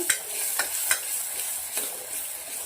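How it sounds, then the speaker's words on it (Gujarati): Chopped onions, garlic and green chillies sauté in a pan with a steady hiss of sizzling oil, while a spoon stirs and scrapes through them in several distinct strokes, close up. "ડુંગળીને સરસ સાંતળી લેવાની છે."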